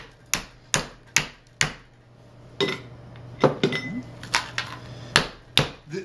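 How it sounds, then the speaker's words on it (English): Sharp metallic hammer strikes shaping metal ring out one at a time, irregularly spaced, some in quick pairs, with short ringing decays between blows. "I think just a few more blows here."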